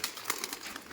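Pigeons flapping their wings as they fly down from a perch, a rapid flurry of soft wingbeats, close and brief.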